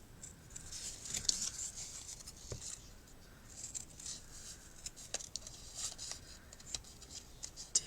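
Scissors snip through paper shapes in short, close, crisp cuts, irregular clusters of quiet snipping against a faint room background.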